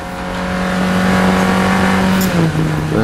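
Race car engine accelerating hard on a lap of the Anglesey circuit in North Wales, a loud steady roar climbing in pitch before dipping briefly at a gear change into fourth.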